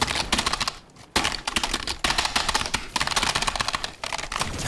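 Loud computer keyboard typing during Fortnite play, rapid clattering keystrokes in dense bursts with a few brief pauses, close and prominent.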